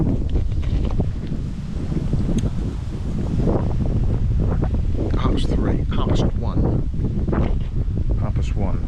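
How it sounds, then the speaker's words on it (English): Strong wind buffets the microphone throughout at a cold-water carp fishing spot, a constant low roar with gusty rustling, and a voice talks intermittently over it. "Windy."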